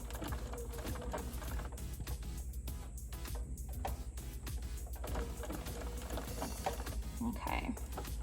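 Sewing machine zigzag stitching along a fabric edge, a rapid steady mechanical chatter running close and continuous under quiet talk.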